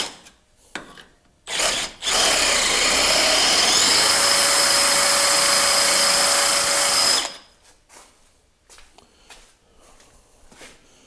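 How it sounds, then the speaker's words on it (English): Power drill boring into the metal crossmember of a 2000 Ford F350 Super Duty dually, a loud sustained five-second whine and grind, with a brief trigger burst just before and faint workshop clatter afterward. "just the tip of the drill bit is kind of making a mark in the metal"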